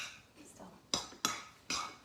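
Energy bite ingredients with coconut oil and almond butter being mixed in a bowl, three sharp utensil knocks against the dish after a soft stirring scrape, close and brief.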